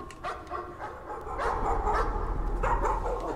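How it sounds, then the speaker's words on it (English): A dog in the horror game Layers of Fear barks and yelps a few times over low rumbling ambience, sounding somewhat distant and muffled. "Oh, it's a doggy."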